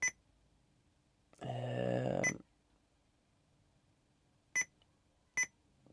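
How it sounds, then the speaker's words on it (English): Short electronic beeps from a navigation head unit in a Fiat Ducato motorhome dash sound one at a time, with a brief muffled noise partway through; otherwise quiet. "That beeping noise, that is getting on my nerves."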